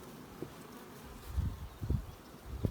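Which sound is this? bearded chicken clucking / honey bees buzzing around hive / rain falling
honey bees buzzing around hive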